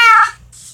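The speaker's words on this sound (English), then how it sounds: "My cats are house cats." A house cat gives one short, loud, tonal meow at close range, then falls silent under faint room hiss.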